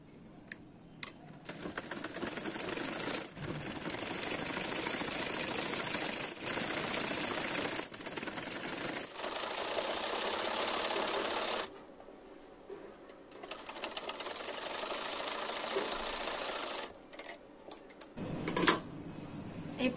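Up close, a sewing machine runs a long continuous line along the side seam of cigarette pants from waist to leg, then slows and stops in a few shorter bursts, with no voices.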